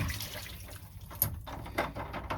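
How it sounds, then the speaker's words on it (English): Seawater runs through a boat's log hole into the bilge, a close, continuous trickling and splashing with a few brighter drips. "The water here will drain into the bilge"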